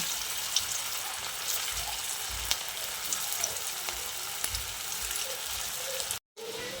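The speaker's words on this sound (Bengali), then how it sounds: "এগুলোকেও দেখুন গরম তেলের মধ্যে দিয়ে দিচ্ছি" Soya kebabs frying in hot oil give off a steady, close crackling sizzle with occasional pops that runs throughout, then cuts out briefly near the end.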